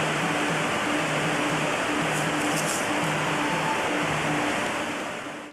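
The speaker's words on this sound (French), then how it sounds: "Vous entendez le bruit de l'eau." River water rushes past a riverside fort in Chitral, Pakistan, a loud, unbroken broadband roar that stays steady before dipping slightly at the very end, with no talking.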